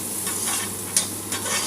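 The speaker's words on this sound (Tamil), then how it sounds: "போட்டு நல்லா வதக்கி விடுங்க" Onion, green chilli, curry leaves and ginger garlic paste sautéing in a pan for a goat blood fry, a steady soft sizzle with a few sharper spatula scrapes, close and continuous with no talk.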